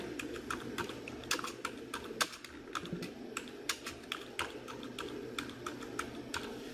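A title being typed into PowerPoint on a computer keyboard, with a rapid, uneven stream of close, crisp key clicks and no voices.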